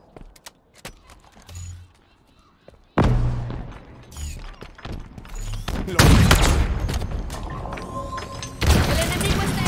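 Gunfire in Halo Infinite multiplayer on Xbox Series S: scattered shots and thuds build into loud, heavy bursts of automatic fire and explosions, with a game announcer's voice over the action.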